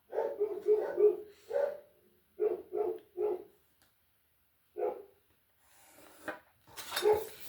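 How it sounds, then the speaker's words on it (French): Dogs bark and howl in repeated bursts from a distance, with pauses between, plus a faint clatter near the end. "C'est mes chiens que vous entendez hurler en bas."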